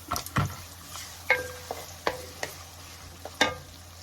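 Garlic and a cinnamon stick fry in a pot under a soft, steady sizzle, broken by several sharp clinks and scrapes of a utensil stirring against the pot.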